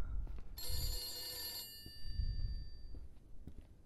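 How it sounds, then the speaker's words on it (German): An old-style telephone bell rings once in a bright, metallic burst of about a second inside a cluttered house, with low rumbling handling noise around it. "ich geh jetzt mal ans Telefon, damit es auch mal was wird hier."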